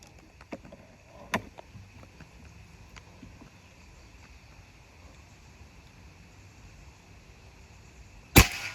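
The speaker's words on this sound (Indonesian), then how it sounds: "Tembakan terakhir, tembakan ke-10 ini ya." A single air rifle shot from an FX Maverick at the end of an outdoor accuracy test: one sharp, loud crack near the close, following quiet ambience with a few faint clicks and taps.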